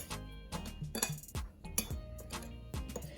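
Metal utensil clinking against a bowl while granulated garlic, onion and other dry seasonings for oven-baked BBQ chicken are stirred together, with several quick, close taps and scrapes in an irregular rhythm.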